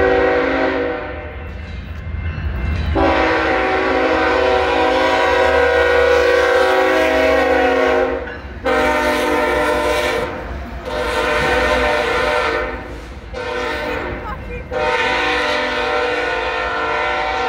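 Heavy BNSF and Union Pacific freight locomotives rumble past close by at Blackstone Avenue, Fresno, California, while a loud, sustained multi-tone horn blares, dropping out briefly and then sounding again in several long blasts.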